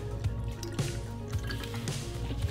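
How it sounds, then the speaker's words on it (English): Water is poured into a measuring bottle to a marked line for a fuel ethanol test, a close, steady trickle with small glugs and drips over a low background hum. "So you're just gonna fill water to that line."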